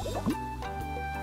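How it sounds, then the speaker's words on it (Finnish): A small squirt of shampoo pours from a plastic bottle, a short liquid glug and drip close by, quiet and alone. "Kierretään korkki auki. Ja kaadetaan ihan vähän shampoota."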